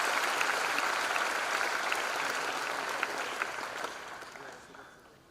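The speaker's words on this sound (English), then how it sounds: "I extend a very warm welcome to you, with a big applause from our students." Students at a freshers' induction program on a university campus in Chennai give a large crowd's steady, dense applause that holds strong, then tapers off near the end, with no voices over it.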